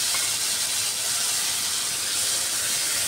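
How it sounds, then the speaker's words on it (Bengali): Boiled chickpeas hit hot oil with frying onions, setting off a loud, dense, continuous sizzle that stays steady throughout, close up and without speech. "পেঁয়াজটা ভাজা হয়ে গেছে, এবার সিদ্ধ করে রাখা চানাটা দিয়ে দিচ্ছি এর মধ্যে"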